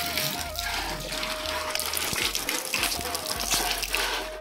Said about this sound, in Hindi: तो अभी हम यहाँ पे हाथ पैर धोएंगे